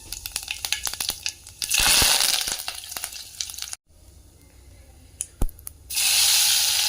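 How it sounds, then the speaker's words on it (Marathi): Cumin seeds hit hot oil for a tadka while paneer bhurji is cooked, giving loud close bursts of sizzling hiss broken by sharp pops and clatters, fading briefly before surging again. "तर आता इथं आपण थोडंसं जिरा टाकू मस्त तडक्याला"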